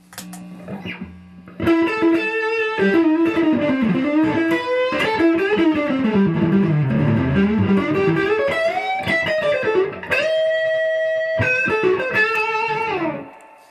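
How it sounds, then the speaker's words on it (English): Electric guitar played through a Fender Super Reverb amp set clean with a distortion pedal in front, ringing out sustained chords and bending melodic lines with a thick, driven tone, loud and close, with no talk over it. "I'm actually running it clean, and I have a distortion pedal in front of it"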